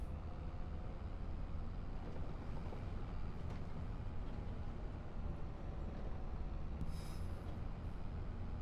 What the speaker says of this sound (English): And the steam train looks amazing.